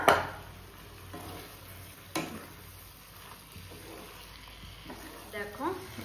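Soaked biryani rice tipped into a pan of sizzling chicken cooked down in oil, a steady frying hiss broken by a few knocks and scrapes, with a voice speaking over it near the end.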